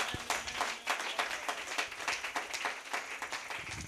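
A church congregation gives quiet, distant applause during a service, with a continuous wash of many hands clapping in loose rhythm and no clear voices.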